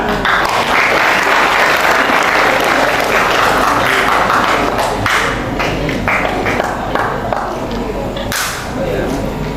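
Loud, sustained applause from an audience at a theatre group's anniversary wayang performance in Semarang, dense steady clapping lasting several seconds with scattered sharp individual claps.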